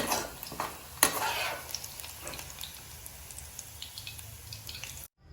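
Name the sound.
onions frying in oil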